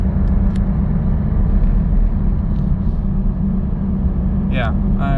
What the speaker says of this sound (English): Second gear. Go to 2000. Here we go. Full throttle.